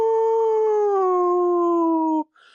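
A human voice imitates a long, deep Sasquatch howl, one sustained call that slowly drops in pitch before cutting off, followed by a brief faint noise.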